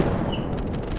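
Rapid gunfire in a World War II Normandy video game, a loud dense burst of overlapping shots and rumble filling the whole moment.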